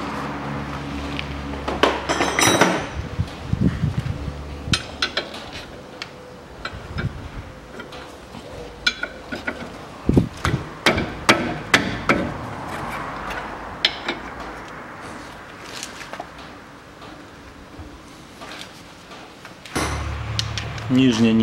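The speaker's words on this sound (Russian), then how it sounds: "Откручиваем вот этих две направляющих." A 17 mm socket works the two brake caliper guide bolts on a 2008 Citroen C-Crosser 2.4 during a front brake pad change, making metallic clicks, knocks and clanks. Someone speaks over much of it.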